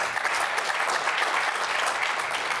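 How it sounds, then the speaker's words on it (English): Sustained audience applause closing a boardroom security event, dense and steady throughout with no pauses or voices, fairly loud and filling the room. "join me in a round of applause for them and all their efforts"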